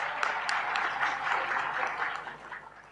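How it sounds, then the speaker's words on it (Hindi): Audience applause for the keyboard and pad musicians at a Hindi spiritual satsang gathering, a steady wash of many hands clapping at moderate level with no voices over it. "जोरदार तालियां इनके लिए।"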